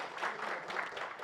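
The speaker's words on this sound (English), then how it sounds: "give applause to our presenter" Soft, distant applause from a symposium audience on wildlife biodiversity conservation, a brief burst of clapping for a presenter, faint and steady.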